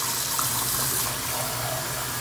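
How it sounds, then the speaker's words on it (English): Cold tap water runs steadily over a freshly caught largemouth bass being washed in a sink, a continuous close splashing gush with no talk. "we're gonna go ahead and wash the fish. You wanna do cold water."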